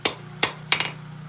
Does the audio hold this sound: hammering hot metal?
yes